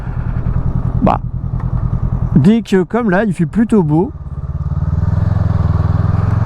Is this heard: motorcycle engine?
yes